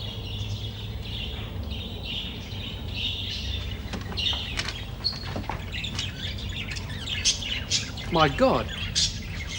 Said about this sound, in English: It looks like a bloody aviary.